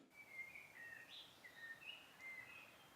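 A recorded sound effect of wind and birds: thin, high bird chirps and short whistled calls repeat every half second or so over a soft, airy background.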